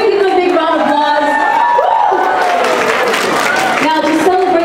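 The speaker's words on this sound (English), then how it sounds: "Can we give them a big round of applause?" Applause and cheering from a crowd at a fashion brand's fourth anniversary event in a Scotts Square shopping mall, a steady wash of clapping mixed with voices and crowd noise throughout.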